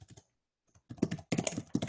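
Quick clattering keystrokes on a computer keyboard come in short bursts after a brief pause, close and fairly loud, with no voices.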